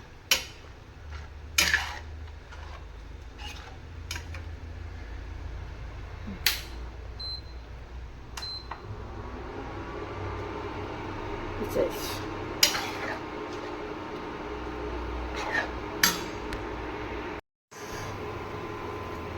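A spoon scrapes and clinks against a metal pot while Kanniyakumari-style anchovies are mixed with salt, giving sparse, quiet, close metallic taps over a low steady hum.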